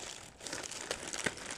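A plastic package holding a squishy toy is cut and crinkled open, with brief close rustles and a couple of sharp snips, faint and quick.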